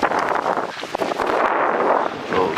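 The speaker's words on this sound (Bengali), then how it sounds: "এবং প্রচুর বাতাস, ঠান্ডা করে দিল শরীরটা।" Strong wind blows in a park near a lake and waterfall, buffeting the microphone in a loud, continuous gusty roar with no talk.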